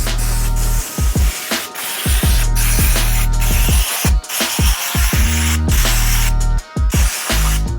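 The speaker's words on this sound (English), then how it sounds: "I'm gonna go ahead and spray everything off with this" A pressurized mist sprayer hisses loudly and almost continuously while cleaning a Subaru engine in a home garage during a rebuild, with brief pauses between long bursts.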